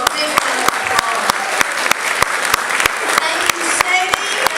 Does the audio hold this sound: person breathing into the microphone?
no